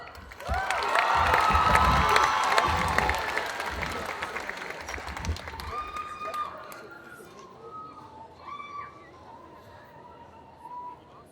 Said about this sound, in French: Je vous demande de faire un tonnerre d'applaudissements pour le groupe Nintendo.